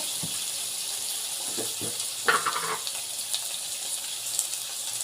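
Cumin and spices sauté in a pan, giving a soft continuous sizzle with a few brief stirring clatters and scrapes in between, moderately close and with no talking.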